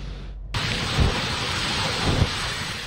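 Heavy typhoon rain pours in Baguio City, a loud continuous roaring wash with low rumbling swells, with no voices.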